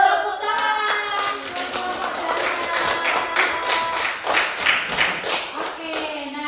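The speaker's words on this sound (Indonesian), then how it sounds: "Tepuk tangan." A class of young students claps hands together, a lively patter of many claps in a loose rhythm, with children's voices chattering underneath.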